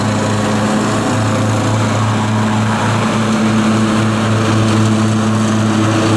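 A Cub Cadet XT1 Enduro riding mower cutting a large lawn, its engine holding a loud, steady, unbroken drone close by for the whole stretch.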